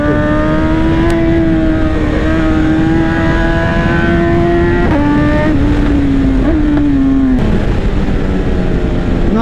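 A 2018 BMW S1000RR sport motorcycle engine running loud and close with a steady high-pitched whine, pitch stepping up and down through gear changes, with no talking.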